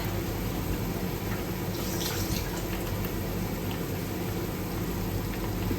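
Hands being washed under a running kitchen tap, a steady broadband rush of water continuing evenly for several seconds, close and without talk.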